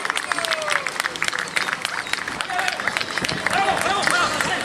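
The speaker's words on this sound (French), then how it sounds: "sous vos applaudissements" Crowd applause at a regional dog show on Réunion island, a dense patter of clapping with murmuring voices and a few cheers mixed in, continuous throughout.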